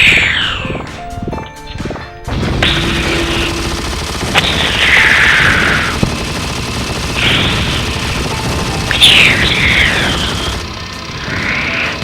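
Gunfire blasts meteors in the video game Shadow the Hedgehog, with loud repeated bursts and crashing impacts over a dense, constant roar of game action.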